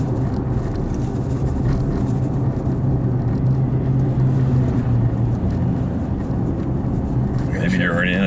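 A 2015 GM Colorado/Canyon engine hums steadily as it climbs to about 1,800 RPM, a continuous droning tone heard from inside the cab, with a voice speaking near the end.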